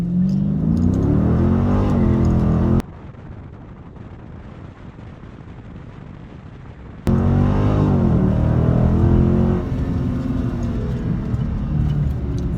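A 2019 Dodge Scat Pack launches from near idle on a street 0-60 run, its V8 roaring loud with rising revs through gear pulls, dropping to a quieter lull midway before surging again hard and close.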